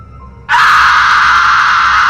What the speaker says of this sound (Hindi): कमरे के अंदर से चीख सुनाई दी, इतनी तेज कि बाहर खड़े लोग भी घबरा गए।